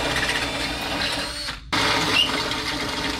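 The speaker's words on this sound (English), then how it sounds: "I'm gonna drill the holes in the side of the frame." A power drill whines steadily up close, briefly stops, then starts again and keeps grinding through a van's metal frame.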